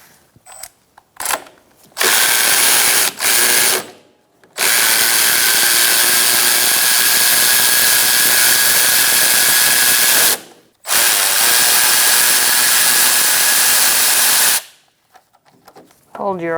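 A power tool with a 15mm socket loosens the alternator bolts on a 2005-2010 Chrysler 300 with a 5.7L V8, running in loud sustained bursts of whirring drive with short pauses between them, close to the listener.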